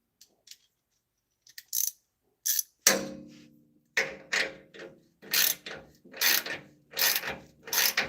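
A hand ratchet tightens replacement exhaust bolts on a Chevy Astro AWD van, giving repeated close, sharp clicking bursts in an uneven rhythm, with a few quiet ticks before the steady strokes begin.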